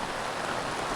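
Steady rain falls with a dense, even hiss and no gaps, and it stays at a moderate level.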